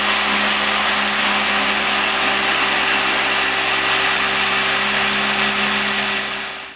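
A Harbor Freight Chicago Electric dual action polisher runs loudly and continuously at close range, a harsh steady motor whine with a high tonal hum, winding down at the very end.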